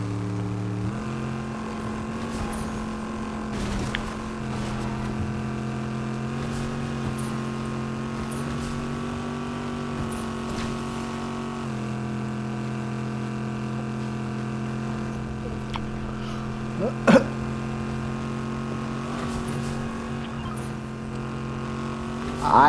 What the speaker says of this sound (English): There's a car behind us.